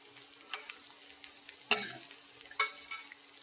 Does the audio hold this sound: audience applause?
no